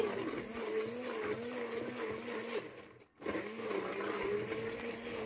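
Electric blender coarsely grinding sarson ka saag greens, a steady loud motor whine that cuts out briefly around the middle and then restarts, running alone.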